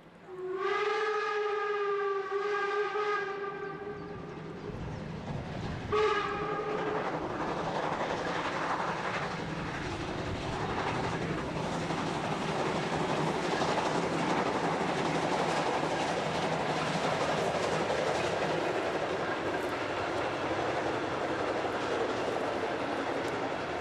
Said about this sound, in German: Drei Tage lang ist der alte Zug auf Usedom unterwegs.